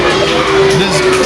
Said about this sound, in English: they are booing Steve Pender